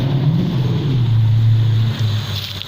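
A Holden ZB Commodore RS hatchback's 3.6 V6 LGX engine with a squashed radiator runs at a steady low idle, close and constant, with a slight dip in tone near the end and no talking.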